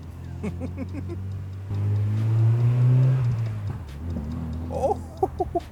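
Modified exhaust on a Mazda MX-5 NB gives a few quick, sharp pops and crackles near the end of the run, heard from inside the car over a low engine drone; a brief spoken interjection comes early.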